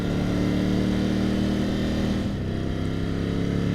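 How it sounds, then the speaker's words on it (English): A 2020 Ducati Scrambler 1100 with stock exhaust runs close by, a steady throbbing engine note that drops off midway as the bike decelerates, loud with no talk. "I am a fan of this 1100 engine,"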